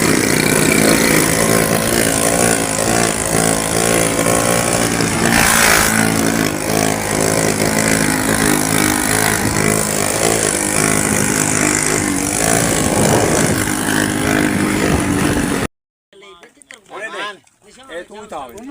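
A motorcycle engine runs loud and continuous under a busy, dense mix of other sound for most of the stretch, then cuts off abruptly, followed by a few brief sounds and voices.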